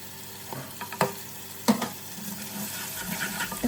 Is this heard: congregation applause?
no